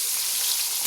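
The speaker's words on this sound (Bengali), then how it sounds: "মাথা দুটোকে আমি হাই ফ্লেমে দিয়ে কিন্তু ভেজে নিচ্ছি" Fish heads frying in hot oil over a high flame give a steady, bright sizzling hiss, close and even for about a second with no talking.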